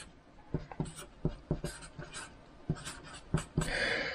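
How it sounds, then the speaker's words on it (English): Pen scratching across paper by hand, a run of short, irregular strokes and taps at close range, with a brief rustle near the end. "Just write this down first."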